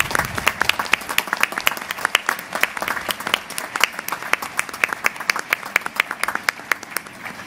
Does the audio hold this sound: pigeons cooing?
no